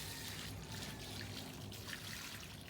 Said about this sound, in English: And after that, add water.